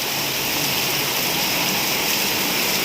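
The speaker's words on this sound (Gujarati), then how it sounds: "પૂરું વરસાદ ફૂલ આવે છે" Heavy rain pours down in a steady, loud, unbroken hiss from start to finish, with no voices or other sounds standing out.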